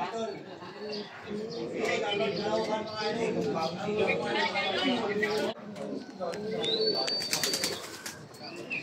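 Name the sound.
racing pigeon arriving, cooing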